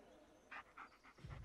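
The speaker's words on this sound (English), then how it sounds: "This is Bullet, your right-hand doggy." A dog panting in the horror video game Blair Witch: several quick, faint breathy pants in a short rhythmic run, followed by a low thump at the end.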